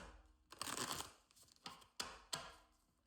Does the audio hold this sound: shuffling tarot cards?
yes